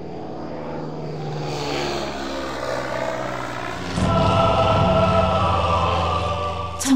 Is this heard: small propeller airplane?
yes